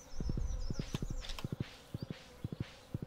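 Rhythmic clip-clop of horse hooves while riding in Stardew Valley, in quick groups of three beats repeating steadily at moderate volume over a faint background tone.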